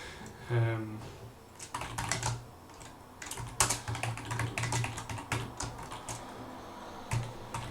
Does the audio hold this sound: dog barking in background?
no